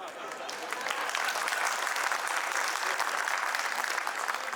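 Audience applause in a courtroom, a dense, steady burst of many hands clapping at close range, sustained evenly for several seconds without talk.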